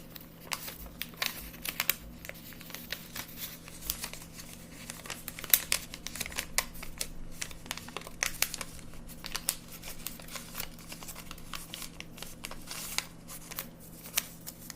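Paper is folded and creased into an origami fish, soft crinkles and quick sharp rustles scattered over a quiet steady background hum, close and faint.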